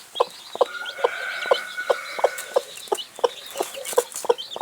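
A brooding kienyeji hen on a poultry farm clucks steadily beside a newly hatched chick, giving short regular clucks about twice per second, with faint high peeping and a sustained thin chirping tone running underneath.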